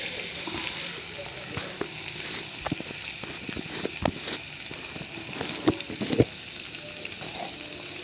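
Fenugreek leaves frying in hot oil in a home kitchen pan, a steady soft sizzle with scattered crackles and pops and the occasional stir, continuous and close.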